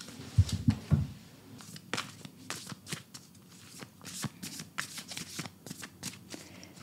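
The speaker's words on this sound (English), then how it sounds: "so I'm going to shuffle it really good." A Light Seer's tarot card deck shuffled close to the microphone, a string of quick crisp riffling bursts and soft card slaps, with a couple of heavier thumps at the start.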